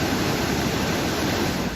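Flood water after heavy rain rushes over a road in Pulwama, Jammu and Kashmir, a loud, continuous broadband roar of churning water with no pauses and no voices.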